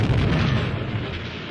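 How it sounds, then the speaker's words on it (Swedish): A loud, deep explosion booms from an inventor's house, a dense rumbling blast that fills the moment and slowly fades, with no voices. "Precis då hördes en explosion från hennes fars hus"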